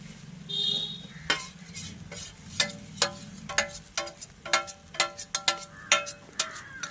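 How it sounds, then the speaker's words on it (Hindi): A spoon repeatedly stirs and scrapes besan as it roasts in a metal kadhai. The sharp clinks come at an irregular, quickening pace over a low, soft sizzle, close and without speech. "अब बेसन को कढ़ाई में डालकर उसको चला चला कर भूनना है हमको।"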